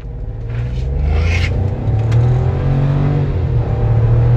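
Chevrolet Tracker 1.2 turbo pulling away from a standstill with steady acceleration, a loud close engine drone and low rumble that climbs and holds through the run without any talk.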